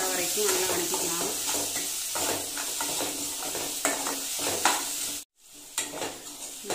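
Onions sauté with a little salt in a pan for Chettinad egg curry, sizzling steadily while a spoon stirs and scrapes repeatedly; a brief dropout interrupts near the end before the stirring resumes.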